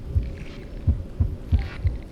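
A heartbeat in the video game Honkai: Star Rail, five deep, evenly spaced thumps repeating about three times a second, close and heavy over a low hum.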